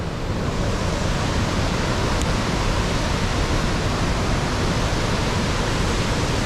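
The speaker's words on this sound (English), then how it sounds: "This is the waterfall" A waterfall near the gate of Great Himalayan National Park, reached by a mountain trek, roars as a steady, loud, dense rush of falling water with no pauses and no voices.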